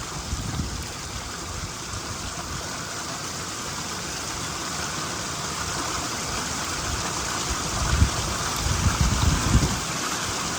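Gandahati waterfall in Odisha pours steadily, its rushing water forming a continuous broadband roar that swells with a few stronger surges near the end. No one speaks.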